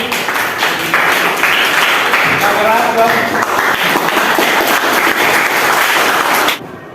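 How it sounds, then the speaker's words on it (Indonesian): A school class claps for a presenting group, dense and steady for several seconds before stopping abruptly, with some talk mixed in. "tepuk tangan dulu buat kelompok 1."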